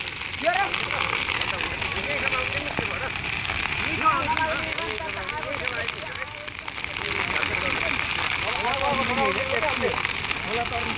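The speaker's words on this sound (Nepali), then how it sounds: "आगो कसरी बल्छ" A community forest fire burns with a soft, continuous crackle and hiss, while villagers talk over it nearby for most of the stretch.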